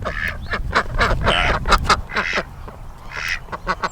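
Welsh Harlequin ducks quack loudly and repeatedly in a farmyard flock kept alongside light Brahma chickens, the calls close and overlapping in quick bursts.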